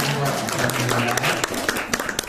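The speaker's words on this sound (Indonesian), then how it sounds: "ya tepuk tangan dong" Seminar audience applauding: a dense, steady wash of many hands clapping together, with a voice speaking over it.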